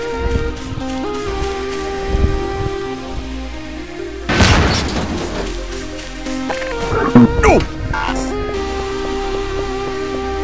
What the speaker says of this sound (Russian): Тащи бочки, тащи, взрывать сейчас будем.